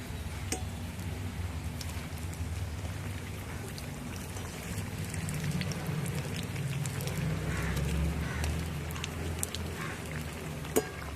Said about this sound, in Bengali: ডুবা তেলে ভাজতে হবে তিনটা দিলাম তেলে দিয়ে